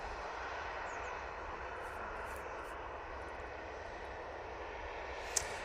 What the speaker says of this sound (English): There's PC-12 coming out for Silver Aviation.